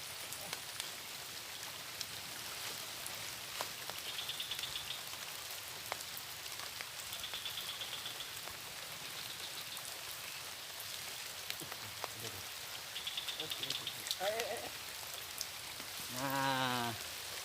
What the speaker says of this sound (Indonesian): Kita mancing suasana hujan ya sobat ya.